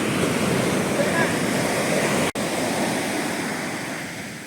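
Heavy surf roars continuously at Ulavapadu beach, waves crashing and washing over the shore with a steady, loud rush and wind noise.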